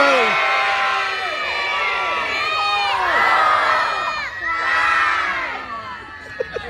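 A large crowd of children cheering and shouting loudly together at a sea lion show at West Midlands Safari Park, sustained excited whoops rising and falling in waves, with a couple of sharp claps near the end.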